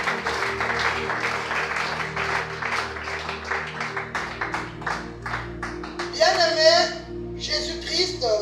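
A church congregation claps in acclamation during a French-language service, a dense run of rhythmic handclaps under a speaking voice, followed by a bright burst of singing or ululation toward the end.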